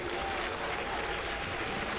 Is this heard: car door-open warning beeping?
no